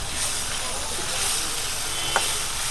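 A tadka tempering for dal sizzles in a brass pot at an old rustic dhaba in Gurdaspur, a close, steady hiss with a faint click near the end.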